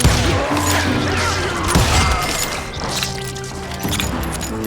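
Gunfire in the Western shooter Call of Juarez: Gunslinger, a rapid series of sharp shots and impacts over a dense game soundtrack with music, close and loud with several bursts.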